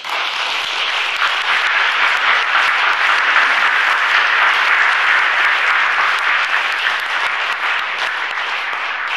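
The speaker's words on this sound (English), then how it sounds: "please join me in applauding James Cooner's achievement." An audience applauds a student's achievement at a recognition event, with loud, continuous clapping from many people at close range that stays even throughout and has no speech over it.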